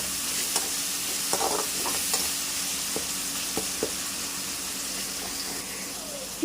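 Tomato tempering (talimpu) sizzles in a pan as it is stirred. A steady frying hiss runs under scattered scraping taps of a spoon against the metal, with a faint watery trickle in places and no talking.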